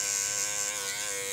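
Hair clippers with a taper blade run close and steady, buzzing continuously as they cut hair during a fade, with no talk.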